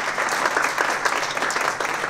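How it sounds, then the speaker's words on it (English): Audience applause after a volunteer returns to her seat at a live people-skills talk, a steady burst of clapping from a crowd lasting a couple of seconds, fairly close and even. "Okay, round of applause for Ruth."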